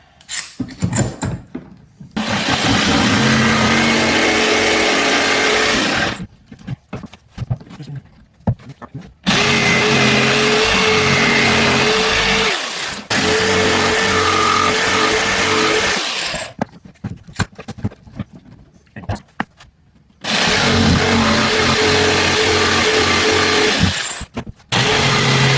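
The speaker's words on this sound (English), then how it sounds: "So now we're going to cut our profile out here." A power saw cuts a wooden serving tray profile along a marked line, running in four loud sustained bursts separated by short pauses as the cut is repositioned.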